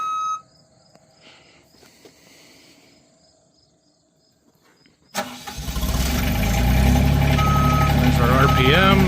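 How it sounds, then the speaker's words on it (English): A large diesel engine on an irrigation or pumping rig cranks and fires at a farm, roaring loud and steady after a quiet stretch with faint beeps and crickets, then settling into a running rumble. "Start the engine."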